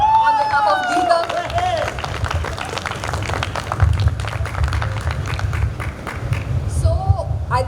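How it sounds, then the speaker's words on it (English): An audience at a faculty felicitation ceremony claps together in a steady wash of applause, with voices speaking briefly at the start and end around it. "So clap on behalf of Geetham"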